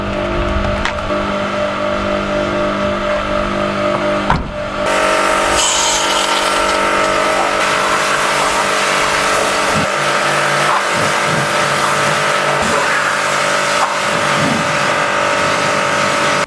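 Hyundai Accent engine idling and creeping forward into a garage, a loud steady hum with a sudden shift partway through as the car moves inside, no voices.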